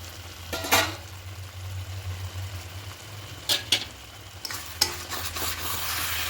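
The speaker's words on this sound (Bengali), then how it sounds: "খুব ভালো করে মিক্সড করে নেব" Chicken and cabbage being stirred in a pan, steady low sizzle with a few sharp scrapes and clinks of the spoon against the metal, close and fairly quiet, no voices.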